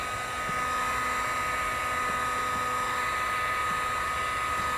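A heat gun blows a steady, loud hot-air whir while shrinking automotive window film on a car door, continuous and unbroken throughout.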